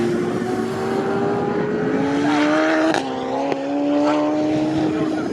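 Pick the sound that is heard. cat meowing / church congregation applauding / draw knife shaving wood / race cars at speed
race cars at speed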